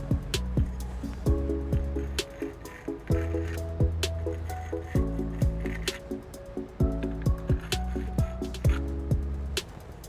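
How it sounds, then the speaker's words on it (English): Cleaner sprayed into the hitch mounting bolt holes of a 2013 Toyota Sienna comes in a run of short squishy spurts and hisses, close and repeated in uneven bursts, with sharp clicks between them and no talk. "We're just gonna take the cleaner and clean them out real quick"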